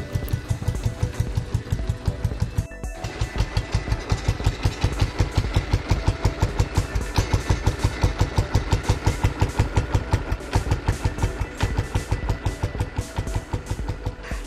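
A vintage Royal Enfield motorcycle with an original English-made G2 silencer idles steadily with a muffled, even thumping beat, close by and moderately loud, running continuously throughout.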